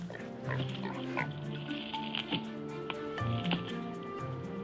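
Wild boar grunting in a Siberian forest, a string of low, close snorts and grunts repeating irregularly over a few seconds with no talk.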